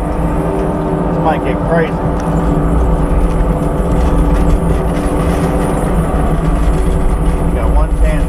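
A vehicle drives through a mulching site with a steady low engine rumble, close and loud throughout, while several people talk over it.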